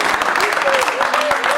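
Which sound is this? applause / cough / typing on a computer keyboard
applause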